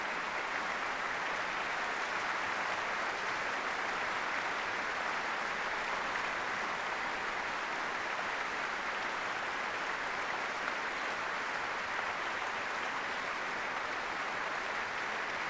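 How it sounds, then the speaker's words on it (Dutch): Sustained, dense applause from a sold-out audience in the main hall of the Concertgebouw in Amsterdam after a live concert performance, loud and even throughout without fading. "En neemt nog één keer het applaus in ontvangst van de dames en heren hier in de uitverkochte grote zaal van het Concertgebouw in Amsterdam."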